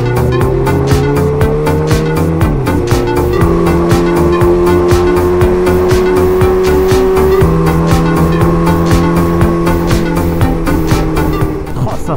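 A motorcycle with a newly fitted exhaust accelerates on a rough road, its loud engine droning close and rising through gear changes amid constant wind rumble.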